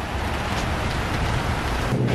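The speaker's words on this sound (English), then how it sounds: "It's still raining, guys." Steady, dense rain falls in downtown Charleston, a continuous loud hiss that fills the short stretch alone, with no voices.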